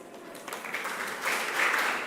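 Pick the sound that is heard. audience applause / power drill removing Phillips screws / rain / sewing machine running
audience applause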